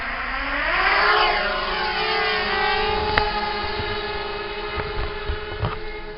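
A Quav 250 mini quadcopter drone flies with a continuous high-pitched buzzing whine whose pitch swoops up and down as it maneuvers, fairly loud and steady, with some faint bumps near the end.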